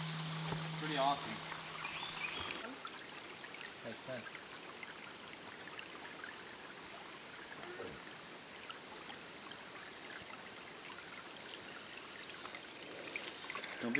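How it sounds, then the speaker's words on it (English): A creek flows near a hiking trail with a steady, faint trickle and rush of water. A bright, sustained tone sits above it, and brief voices come in near the start. "And we have made it to the creek."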